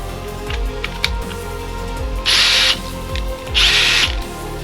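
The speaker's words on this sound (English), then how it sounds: "So now you got a Jacobs chuck drill going now, 2-speed, which is nice." A Dewalt two-speed drill fitted with a Jacobs chuck attachment whirs in two short, loud bursts close by, with softer clicks and mechanical rattles between them.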